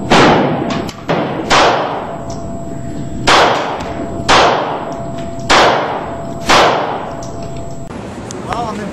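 Handgun shots fired at a set-up target outdoors in wind, five sharp cracks spaced roughly a second or two apart, each with a short ringing decay, loud and close.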